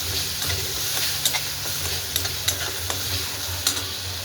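Green chilies and turmeric sizzle in hot oil in a pan for a green bean dish, a constant close hiss broken by several light clicks of a spatula stirring.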